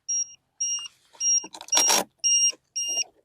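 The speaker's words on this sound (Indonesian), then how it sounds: "Saya ke alarmnya cabut dulu." Electronic alarm on a radio-controlled trainer plane setup gives sharp, high-pitched beeps in a quick repeating pattern, close and loud, broken midway by a burst of noisy rustling as it is unplugged.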